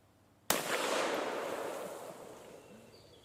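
A single sharp gunshot is fired outdoors at steel targets, a sudden loud crack followed by a long rolling echo that fades over about three seconds.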